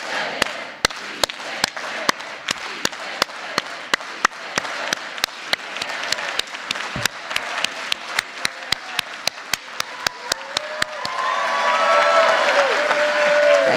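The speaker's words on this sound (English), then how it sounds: "Let's all do it all together with an organized hand clap." A lecture audience joins Dolores Huerta in an organized hand clap to the 'sí se puede' chant, sharp, evenly spaced claps in unison keeping a steady beat over a crowd murmur, then swelling into looser cheering at the end.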